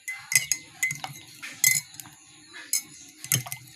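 Ground turmeric being mixed into ground meat, with several light utensil clinks and scraping taps against a bowl in quick irregular bursts, close and fairly quiet, no talking.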